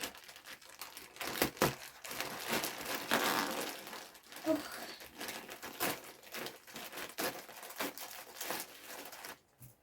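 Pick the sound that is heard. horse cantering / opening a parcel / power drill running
opening a parcel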